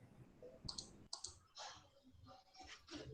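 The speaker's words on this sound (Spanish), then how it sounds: "Se le escucha cuando da el clic" Faint mouse clicks sound during an online finance class presentation, a few sharp ticks scattered over a quiet room-tone background with no voices.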